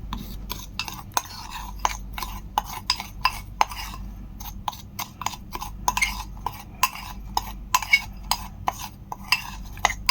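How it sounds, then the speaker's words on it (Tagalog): A baking soda mixture stirred by hand in a container, giving a steady run of quick scraping strokes and small clinks of a utensil against the side, close and even, with no talk. "haluin natin hanggang sa mawala na yung buo-buo ng baking soda natin"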